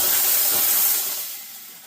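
An espresso machine's steam wand purges into the drip tray with a loud, steady hiss that fades over about two seconds.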